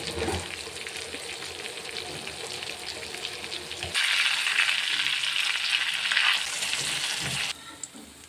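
Fish fries in hot coconut oil with a loud, crackling sizzle that swells sharply midway, as if pieces are added or stirred, then eases off near the end.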